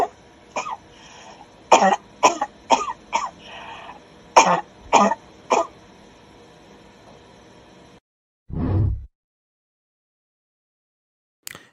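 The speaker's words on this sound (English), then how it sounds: "Cough it up." A person coughs and clears their throat in a series of sharp bursts, close and loud, followed by one longer rough throat-clearing after a short silence.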